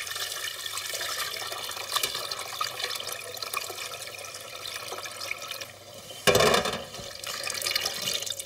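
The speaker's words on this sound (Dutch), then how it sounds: "Nu gaan we die afgieten." Blanched green herbs for eel in green sauce are drained, with steady running, splashing water through most of the clip and a louder, fuller pouring surge near the end.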